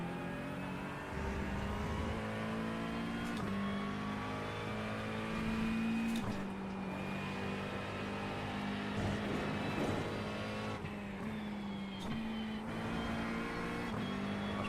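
A race car engine at Watkins Glen in a racing video game drones steadily at high revs, with several quick downshifts and blips marked by sudden pitch jumps, loud and continuous throughout.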